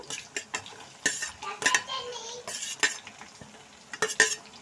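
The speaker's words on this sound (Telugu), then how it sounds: "ఈ పచ్చిమిర్చి వేగాక ఆనియన్స్ వేసుకున్నాము" Onions and green chilies fry in a pan for majjiga pulusu, soft sizzling beneath irregular scrapes and metallic clinks of a spoon stirring, fairly close and moderately quiet.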